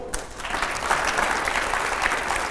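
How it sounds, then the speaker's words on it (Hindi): A studio audience at a televised political interview breaks into steady, dense applause, a close, even wash of clapping that holds at a constant level for the whole stretch. "जोरदार तालियां"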